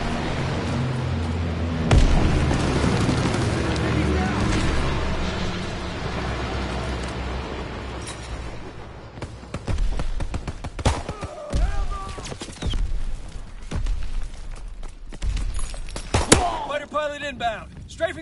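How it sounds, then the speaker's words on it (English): Airstrike bombs and strafing gunfire in a PS4 shooter: dense rumbling blasts and rapid bursts fill the mix, with sharper cracks and booms standing out later, under game announcer voice lines. "Inbound, strafing the target."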